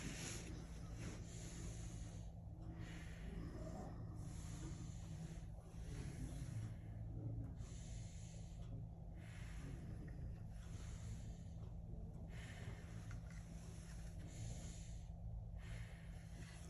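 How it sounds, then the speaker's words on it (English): Deep breathing through a stethoscope during a lung exam: slow, steady airy breaths sounding muffled and close against a constant low rumble, with no talking. "I'm also gonna listen to your backside. Deep breaths for me, please."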